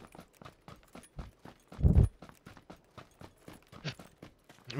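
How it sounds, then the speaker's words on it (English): Footsteps in the battle-royale video game PUBG, played on Xbox One: a steady run of rhythmic thudding steps close by, with one louder heavier impact partway through. "yeah, footsteps."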